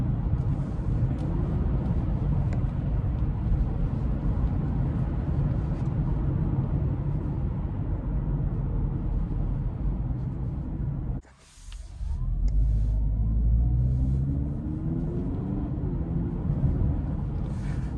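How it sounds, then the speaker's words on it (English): 2024 Honda CR-V Hybrid accelerating with augmented engine sound, a steady low engine drone and road noise heard from inside, briefly dipping before a rising tone swells as the SUV pulls harder. "the fact that they took the time to put the augmented sound in this car is interesting"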